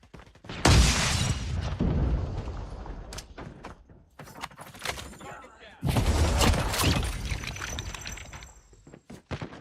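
Two loud booming grenade blasts in Call of Duty Mobile, each a sharp burst trailing into rumble, separated by scattered gunfire and clatter.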